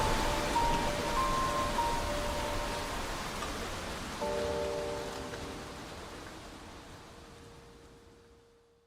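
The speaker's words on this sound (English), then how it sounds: "Special rain." Rain falls in Genshin Impact during a Fontaine quest, a steady broadband hiss that slowly fades away, with faint musical tones drifting through and no voices.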